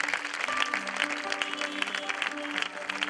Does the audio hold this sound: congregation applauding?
yes